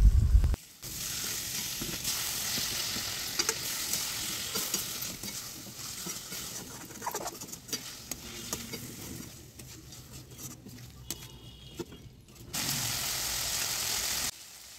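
A spice paste for a vegetarian raw banana curry is sautéed in a pan, sizzling and spattering steadily with repeated scraping stirs; near the end the frying swells louder for a couple of seconds.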